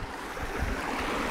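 Water from a village tube well in India rushing along a channel into irrigation fields, a steady broadband gushing roar heard up close and continuous, with no voices.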